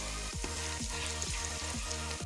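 Garlic and ginger frying in a pan make a steady, quiet sizzle that runs throughout, with a faint repeating low hum underneath and no voices.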